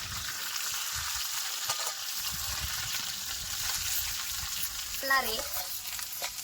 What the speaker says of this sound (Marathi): वाटून घेतलेलं कढईत तळाय टाकले